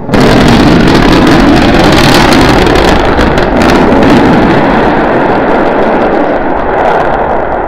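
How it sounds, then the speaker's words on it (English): Roar of the SpaceX SN9 Starship prototype restarting its engines for the landing burn and flip, a loud, continuous, broadband rumble that holds steady for the whole stretch with no speech. "We're preparing to restart two engines, flip the vehicle vertical, then transition to one engine for the landing burn."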